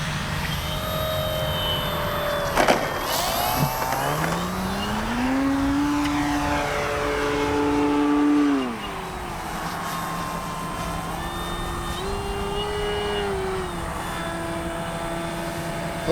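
An Avios Grand Tundra V2 radio-controlled airplane running a 6S battery flies overhead with a loud electric motor and propeller whine. The pitch rises and falls as it passes and maneuvers, with no talk.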